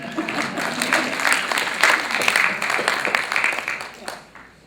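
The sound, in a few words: audience clapping at a campus presentation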